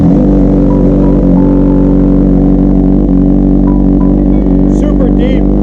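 A 2003 Kawasaki ZX6R motorcycle with a Muzzy exhaust idles loud and deep right after starting, a constant heavy engine rumble with brief chirps near the end.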